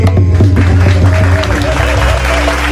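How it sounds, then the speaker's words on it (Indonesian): A crowd at a religious congress event applauds loudly and steadily, with voices and some music tones mixed in throughout. "Ya, terus tepuk tangan"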